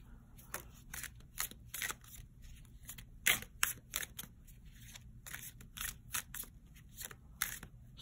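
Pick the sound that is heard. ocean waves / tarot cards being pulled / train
tarot cards being pulled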